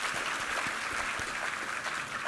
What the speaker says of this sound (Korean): 은혜로운 찬양으로 우리를 섬겨주신 바리톤 최기돈 형제님께 우리 감사의 박수